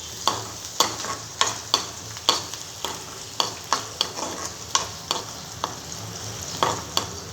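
Onions frying with salt in a pan give a steady sizzle, punctuated by regular sharp scraping clicks of stirring roughly every half second, close and clear with no talking.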